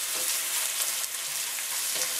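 Chopped onions sauteing in a hot pan for keto taco meat, a steady bright sizzle with faint stirring clicks, close and continuous with no talking.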